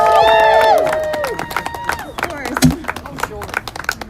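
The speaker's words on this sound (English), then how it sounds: "Everyone give a big round of applause for Brianna Joy Gray" Audience applause for Brianna Joy Gray at a #ForceTheVote rally in Washington DC: scattered claps and cheers from a crowd that follow sustained whistle-like tones and continue unevenly to the end.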